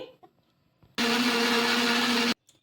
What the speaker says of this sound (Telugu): ఇలా కొన్ని నీళ్ళు అయితే వేసుకొని మెత్తగా మిక్సీ పట్టేసుకోవాలి